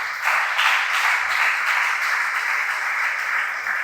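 Church congregation at a Sunday service breaking into sustained applause, a dense wash of many hands clapping that swells quickly and holds steady, loud and roomy with no speech over it.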